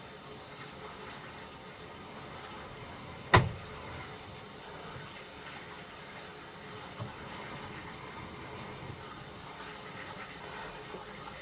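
Faint, steady trickle of water cascading up and flowing out of the hub of a sewer pipe during a camera inspection, with one sharp knock near the start and no voices.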